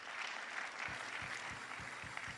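Dense, steady applause from a congregation at a Nazarene church gathering, a continuous wash of many hands clapping at close range with soft rhythmic thumps underneath, lasting throughout.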